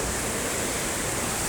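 A strong current of water rushing in a river, a loud, dense, continuous roar close by with no breaks and no voices.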